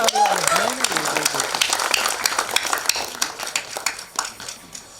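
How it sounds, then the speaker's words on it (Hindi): Applause from an audience at a film trailer launch event as a guest is introduced, clapping starting fuller and thinning into scattered claps, with a voice speaking briefly at the start. "जोरदार तालियां ladies and gentlemen"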